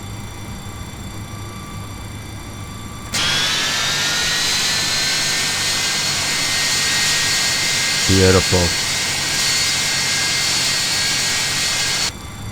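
A McDonnell Douglas MD-80 jet engine in a flight simulator game spools up and settles into a steady, loud whine and roar that holds for several seconds, with a brief spoken word over it.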